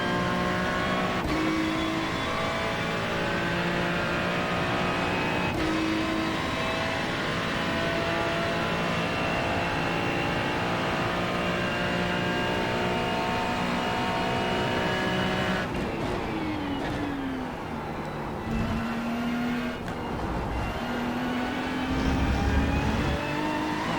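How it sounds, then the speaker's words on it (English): A Ferrari race car engine roars in the iRacing sim, revving hard through the gears with rising and falling throttle pitch, shifts and a brief tire squeal, loud and sustained without any talk. "listening to that throttle there. Love the sound of the Ferrari, by the way. Beautiful sounding car."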